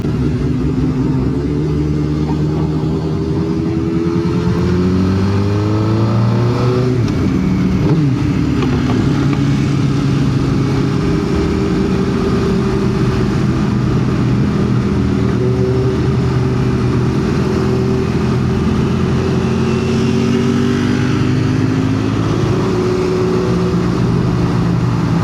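Suzuki K4 GSX-R 750 motorcycle ridden through a road tunnel into Brisbane, its engine droning loud and close throughout, pitch climbing and dropping with repeated revs and gear changes over constant wind roar.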